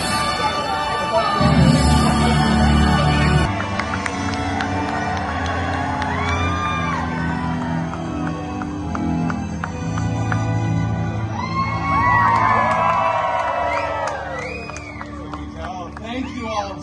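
A theme park audience at a Story Time with Deadpool stage show at Disney's California Adventure cheers and claps, with whoops through a crowd roar and a voice speaking loudly over the noise.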